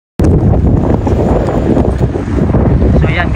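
Heavy wind in Greenland buffets the microphone in a loud, continuous roar with rumbling gusts, drowning out everything else.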